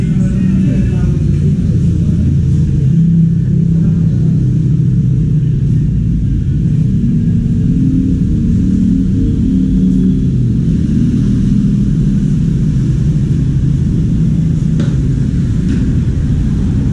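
Riding home on a Honda CBR500R motorcycle, its engine drones with a loud, low rumble and gentle rises in revs, heavy wind buffeting the whole stretch.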